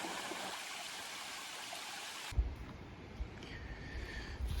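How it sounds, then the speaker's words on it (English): A creek flows on a hiking trail, a steady broadband rush of water that shifts partway through to a lower, rumbling wash with wind buffeting, no voices. "The creek."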